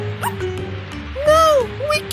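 A few short, high yips and whiny barks from a small puppy, close by, with brief pauses between them.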